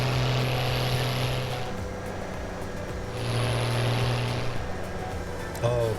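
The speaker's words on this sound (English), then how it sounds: "I love this tractor. It sounds so great." A tractor engine in Farming Simulator 17 drones steadily and loudly, its pitch and intensity swelling and easing as it runs, with no speech over it.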